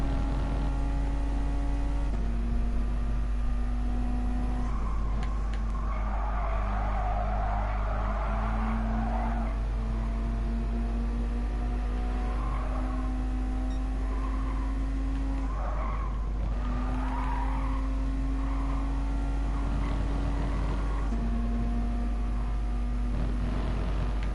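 A car sliding sideways in the Gran Turismo Sport racing game, a steady engine drone rising and falling through gear changes while tires squeal and skid in long stretches, continuous and close, with no talk.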